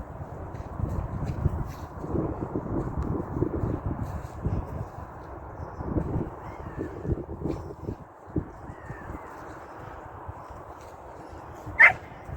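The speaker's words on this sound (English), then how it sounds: "lots of noisy dogs." Several dogs bark and yip repeatedly in the distance, overlapping in an irregular outdoor chorus, with a sharper louder yelp near the end.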